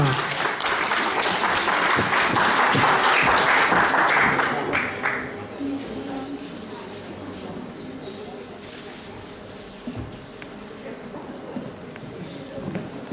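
Audience applause for a first-prize announcement at a county Christmas and carnival performance review in Brodnica, loud dense clapping for about five seconds that fades into quieter room noise with scattered murmurs.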